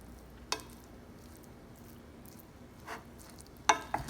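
Pork fried rice frying in butter in a pan, a low steady sizzle with a few brief scraping stirs, close and quiet.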